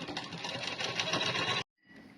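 A sewing machine runs steadily for about a second and a half, stitching a belt onto the edge of a blouse. It whirs loud and close with a fast, even buzz, then stops abruptly and leaves a faint hum.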